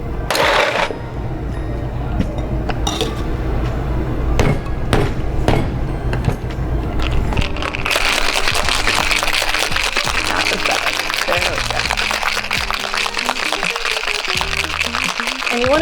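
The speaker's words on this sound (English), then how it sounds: "Shake it like you mean it. And then add our ice." Cocktail shaker worked hard, first with a few dull knocks and a dry shake, then loaded with ice and rattled in a loud, fast, continuous churn close by.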